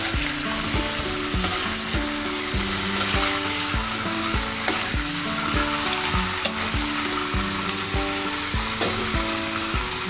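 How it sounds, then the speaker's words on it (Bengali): Pieces of roast meat fry gently in a pan with oil, a continuous close sizzle broken by a few scattered spatula clicks and stirring scrapes over about ten seconds. "সেই রোস্টটা এখন ভেজে নিচ্ছি। হালকাভাবে ভেজতে হবে, নাহলে মাংসটা শক্ত হয়ে যাবে।"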